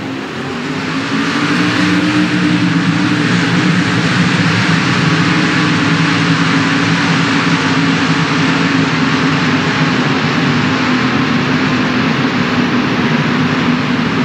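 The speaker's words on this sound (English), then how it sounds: "Drivers, start your engines!" A dense, steady roar of many NASCAR race car engines starting together in a video game at Auto Club Speedway, loud and continuous after a brief rise at the start.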